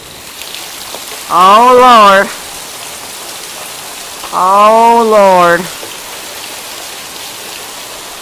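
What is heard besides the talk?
heavy rain falling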